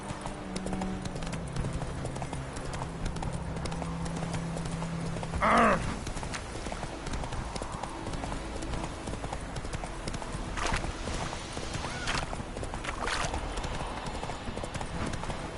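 Hooves clip-clopping steadily as a horse gallops in The Witcher 3 Wild Hunt, with a short whinny partway through and ambient game sounds around it.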